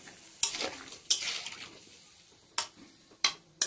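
Drumstick (moringa) pieces and potatoes frying in a pan, with a faint steady sizzle under five sharp scraping strokes of a spoon stirring at uneven intervals.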